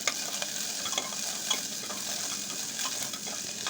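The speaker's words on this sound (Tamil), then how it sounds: "நல்லா கிளறி விட்டுக்கோங்க." Onions sizzle and crackle in a hot pan while a spoon stirs them with soft, repeated scraping.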